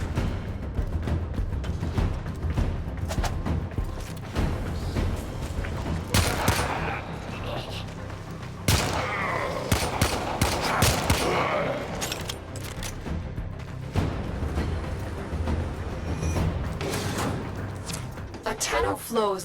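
Gunfire in the video game Warframe while the character jumps and slides, with repeated bursts of shots over a busy, continuous layer of game sound and effects at a steady, fairly loud level.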